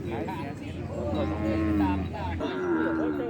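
A water buffalo lets out a long, low moo, nearby and fairly loud, followed by a second groaning call.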